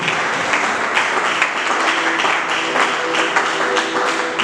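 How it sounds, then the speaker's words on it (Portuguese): At an international church conference in Angola, a crowd claps loudly and continuously, a thick wash of many hands with faint tonal music lying underneath. "Aplausos, aplausos, aplausos."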